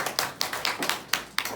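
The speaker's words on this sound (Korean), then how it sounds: "네, 우리 인서 박수" Children clap together in a church Sunday school class, about seven quick, sharp, evenly spaced claps close by with no talking.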